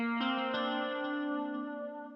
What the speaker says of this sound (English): So right now I'm gonna add some delay.